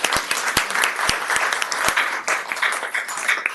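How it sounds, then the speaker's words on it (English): A workshop audience applauds a panel. The clapping is dense and sustained, with a few sharp, close individual claps standing out from the crowd throughout. "If we can have a round of applause"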